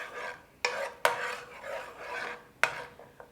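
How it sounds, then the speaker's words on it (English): A pan of thick oyster sauce, thinned a little and starting to bubble, is scraped along the bottom, giving close rasping strokes with a few sharp scraping bursts and no talk. "off the bottom of the pan, and it just starts to bubble"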